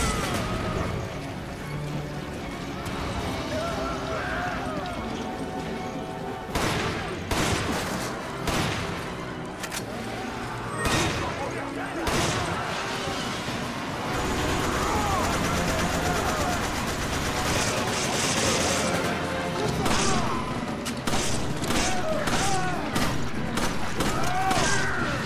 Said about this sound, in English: here's the machine gun guy